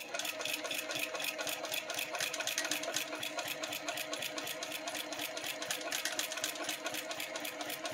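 Sewing machine running steadily and up close, a rapid even stitching rhythm that carries on without a break, with no talk over it.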